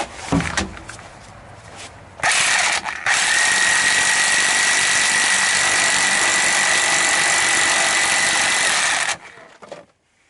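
A homemade wooden puller pulls a drive shaft seal on a Chevy Astro, with a loud, steady mechanical whir that starts abruptly, runs for about seven seconds with a brief break near the start, then cuts off.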